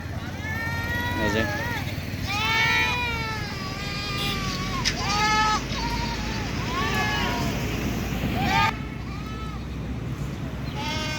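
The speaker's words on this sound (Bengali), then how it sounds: "আপনারা দেখছেন যে দর্শক বিভিন্ন প্রকারের ছাগল দেখছেন বানেশ্বর হাট থেকে কেনা" Native goats at Baneshwar livestock market in Puthiya, Rajshahi, bleat repeatedly in loud, wavering calls close by, several animals overlapping amid crowd chatter and a busy outdoor market din.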